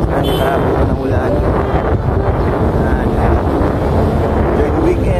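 Strong wind on an overcast, windy day buffets the microphone outdoors, a loud continuous low roar with no break.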